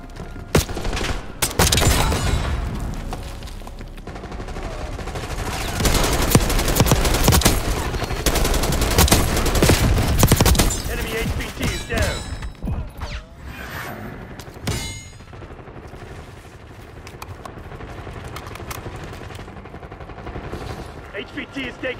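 Intense gunfire rings out in a Black Ops 6 Kill Order match with AK-74 rifles and grenades. Dense bursts of automatic fire and sharp shots come almost nonstop, with whooshes and in-game radio voice lines mixed through the action.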